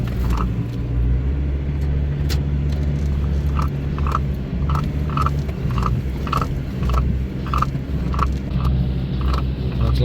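A 4x4 crawls downhill in low gear on a rough, damaged track along a border route, its engine a steady low rumble throughout with repeated knocks and clunks from the suspension and loose ground, close and continuous.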